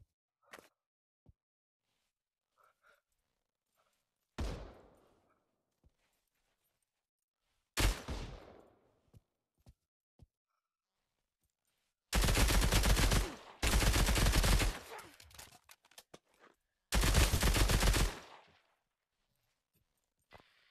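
A .50 caliber gun fires in the virtual reality shooter Pavlov: a few isolated single shots first, then three loud sustained bursts of rapid fire separated by brief pauses, with sparse small noises between.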